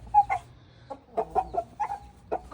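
A chicken clucks in a series of short, uneven bursts, close by, with a few longer drawn-out notes between the clucks.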